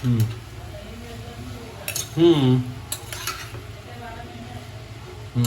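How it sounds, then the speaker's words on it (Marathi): Frozen green peas, red carrots and other mixed vegetables for green veg pulao tipped into a pot and stirred: metal spoon scrapes and clinks against the pot, with a soft sizzle, under intermittent nearby talk. "आणि आता याच्यामध्ये भाज्या घालायच्या."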